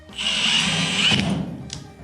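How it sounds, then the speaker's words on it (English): Power drill with a pilot bit boring through wood, a steady high whine that bogs slightly as the bit breaks through, then a brief burst near the end, close and loud. "A little bit of reverse drill action to clean all the chips out and all the burrs out of the hole."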